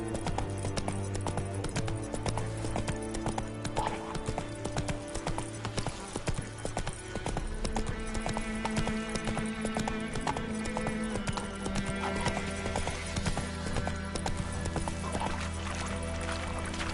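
Roach the horse galloping in The Witcher 3 video game, a steady rhythmic beat of hooves running under a constant bed of game music, with no speech.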